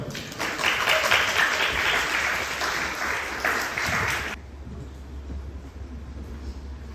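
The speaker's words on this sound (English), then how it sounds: "Please give a wonderful round of applause to DETECTORAIL." A conference audience at a venture startup event applauds for a company onstage, dense steady clapping for about four seconds that then stops abruptly, leaving quiet room tone.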